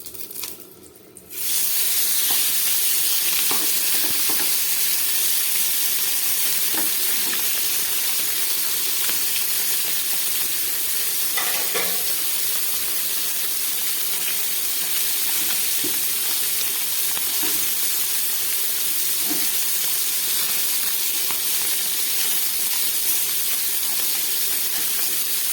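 Small tangra fish sizzling steadily in hot mustard oil in a frying pan, a loud, continuous bright crackle and hiss that lasts throughout after a sudden start, with occasional small pops.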